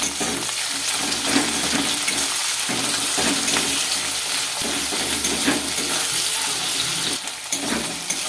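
Capsicum sautéing in a pan for egg chilli gives a steady, loud, broadband sizzle that runs without a break, with faint scraping underneath and no voices.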